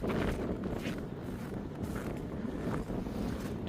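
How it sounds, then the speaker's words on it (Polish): Heavy, freezing wind in Chicago buffets the microphone in a constant low roar with gusty rumbling throughout, loud and close, with no voices. "Chyba sami słyszycie, jak wiatr wieje."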